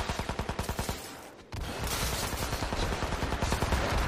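Rapid bursts of automatic gunfire in the video game Hitman Absolution on Xbox 360, a steady staccato volley that breaks off briefly and then resumes as dense, continuous shooting.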